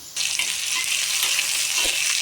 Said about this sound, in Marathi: आता आपण मसाला भाजून घेऊया